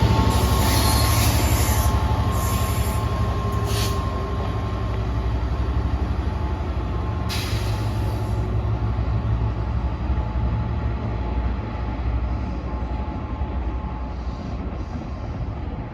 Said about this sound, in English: Here comes the 1446 Northern service to Manchester Piccadilly from Stoke-on-Trent.